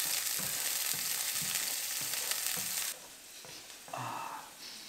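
Finely chopped onion sizzles in a soffritto pan for an asparagus risotto: a dense, steady hiss with soft stirring scrapes, easing to a quieter sizzle partway through.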